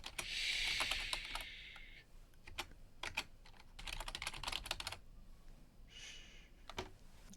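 Computer keyboard typing on a Mac Pro during an Ubuntu Linux setup, with short irregular bursts of quiet, close key clicks and brief pauses between them, no talking.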